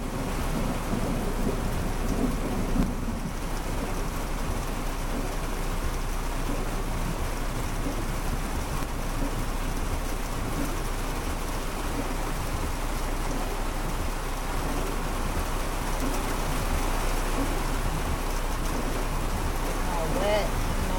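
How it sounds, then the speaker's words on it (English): Heavy rain pours down steadily throughout, with low thunder rumbling beneath the constant hiss of a downpour. "I hope you're enjoying this little rain show."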